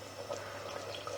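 Water is poured into a cooking pan of peas and spices for matar paneer, a small splash of a few spoonfuls making a steady, soft trickling wash that runs alone and close for about a second.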